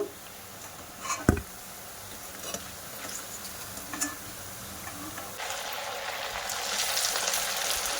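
Fried semolina snacks sizzling in oil, a steady soft crackle with a few isolated knocks early on, the hiss growing louder and denser toward the end.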